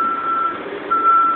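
A massive port forklift sounds its reversing alarm, a loud, steady high beep that sounds, breaks off briefly, then resumes over a low engine rumble in a busy shipping port.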